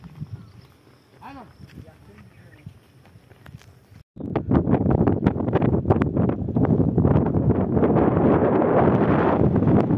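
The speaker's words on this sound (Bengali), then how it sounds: "বাতাস" Wind gusting against the microphone along a rural road by a bridge, quiet at first then a sudden loud rushing roar from about four seconds on, with voices under it.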